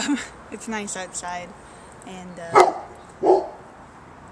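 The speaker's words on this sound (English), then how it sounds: "my neighbor's dog is behind that fence behind me and barking a lot." A neighbour's dog barks from behind a backyard fence, giving two sharp, fairly loud barks a second or so apart after a stretch of steady talking by a nearby voice.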